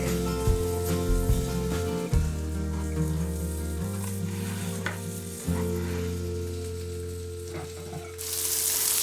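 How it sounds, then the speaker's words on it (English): Potatoes fry in hot oil for french fries, a close, steady crackling sizzle that runs the whole time. Background music plays underneath, and a brighter burst of sizzle comes near the end. "I like my potatoes to fry pretty quick."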